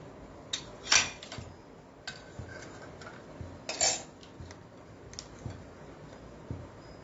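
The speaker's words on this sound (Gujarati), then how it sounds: "જો પાવને આપણે આવી રીતે કાપવાના છે, હાફ, આખા પૂરા નથી કાપવાના" A knife slicing soft pav bread rolls halfway through, giving a few separate soft clicks and cuts with quiet gaps between them, up close and with no talking.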